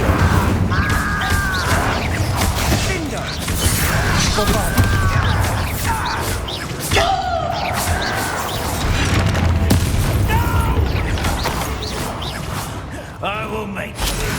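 Fire spell explosions from the Hogwarts Legacy video game: repeated booms, whooshes and crashes of combat effects under spoken game dialogue.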